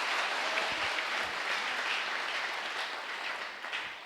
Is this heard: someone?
yes